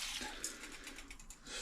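Water poured into a pot holding a kilo of rice, a faint steady rushing splash with some clinking, brief and without talk.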